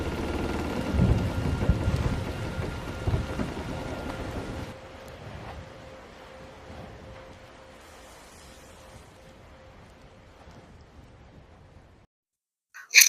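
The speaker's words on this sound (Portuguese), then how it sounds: "em que Jesus acalma a tempestade e caminha sobre as águas" Thunderstorm with heavy rain from a dramatization of Jesus calming the storm, a loud steady downpour with rumbling thunder that abruptly drops to a quieter, fading rain before going nearly silent at the end.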